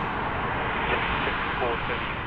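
A departing airliner at Sydney Airport at night gives a steady, even engine rumble, fairly distant and unbroken throughout.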